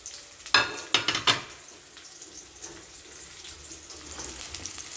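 Onions drop into a hot pan for a fava bean dish with sausage and carrots, giving a few sharp sizzling bursts, then a quieter steady frying hiss up close.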